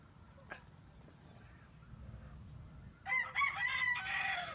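A rooster crows loudly near the end, a long rising and falling call, following a few seconds of quiet outdoor background with a faint low hum.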